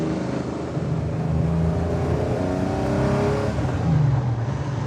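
A 1972 Nissan Skyline engine idling at low RPM with a misfire gives a steady, rough low rumble that wavers unevenly, with no voices.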